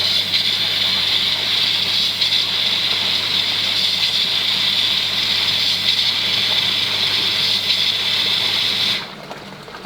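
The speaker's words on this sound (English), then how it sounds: "I actually think it spins a little bit faster than the old motor did" A newly replaced motor spins an Oase pond drum filter, giving a steady loud whirring hiss with water rushing that keeps up until it abruptly cuts out near the end.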